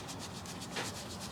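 A hand rubs wormer into a goat doe's skin, making soft, rapid, rhythmic scratchy strokes, faint and close, with no talking.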